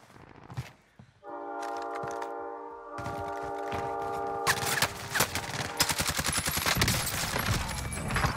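Gunfire in the Warzone video game, including an LC10 SMG: rapid bursts of close automatic shots rise to dense, continuous firing, with a steady horn-like alarm tone droning underneath before the shooting takes over.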